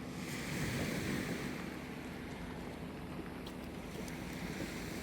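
Sea waves wash against a shore near an airport, making a continuous low roar mixed with wind buffeting the microphone. The sound is steady and fairly faint, with no voices.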